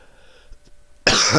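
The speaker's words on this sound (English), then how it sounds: "My cough has been getting worse." After a quiet moment with a faint hum, a single loud, harsh cough bursts out close to the microphone.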